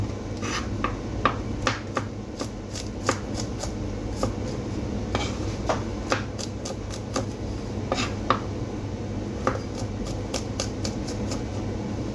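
A knife slices peeled garlic on a cutting board in a home kitchen, giving a steady run of light, crisp taps spaced at an even rhythm, with a constant low background hum beneath.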